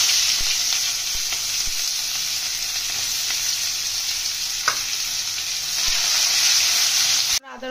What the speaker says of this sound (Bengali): ফোড়নটা একটু ভাজা হয়ে গেলে পেঁয়াজটাও দিয়ে দিচ্ছি,